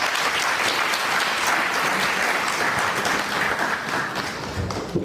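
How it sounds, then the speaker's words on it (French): Sustained applause from a conference audience that had braved heavy rain, a dense, even wash of many hands clapping at close range with no voices on top. "Il faut les applaudir, s'il vous plaît."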